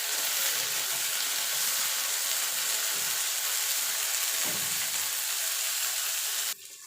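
Bitter gourd sizzling and frying steadily in hot oil in a pan, a continuous close hiss with faint scraping, cutting off abruptly near the end.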